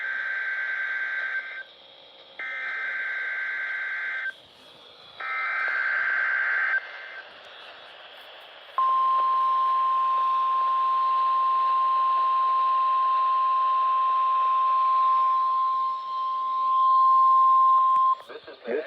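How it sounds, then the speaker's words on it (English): A National Weather Service test from State College, Pennsylvania, on NOAA weather radio: three bursts of harsh digital data tones, then a long steady alert tone of about ten seconds over a faint broadcast hiss. "The tones you just heard were a test of the specific area message encoding and tone alert systems."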